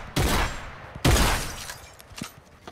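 Two bursts of automatic gunfire from a shooter video game come about a second apart, loud and close. Fainter scattered shots follow as the sound trails off.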